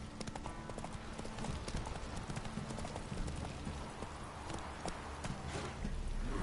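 Roach, a horse in The Witcher video game, gallops with a steady, rapid clip-clop of hooves that continues throughout at a moderate, even level.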